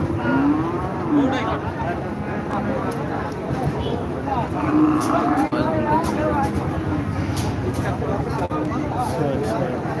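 Cattle moo repeatedly amid a noisy crowd of talking people at a busy outdoor winter cattle market in Taherpur, Rajshahi, with someone speaking close by.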